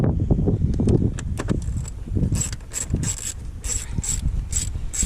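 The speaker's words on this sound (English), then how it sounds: "you're going to need a 6mm socket for this right here" Ratchet with a 6mm socket loosening intake bolts on a BMW M240i with B58 engine, rapid close clicking bursts of the pawl, with metallic tool knocks between strokes.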